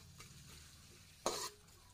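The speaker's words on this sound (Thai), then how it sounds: "เอากระเทียมสับลงไปผัดค่ะผัดให้หอมค่ะ" Chopped garlic stir-fried in a pan, a faint background sizzle broken by one brief loud burst of hissing as the garlic is stirred and tossed.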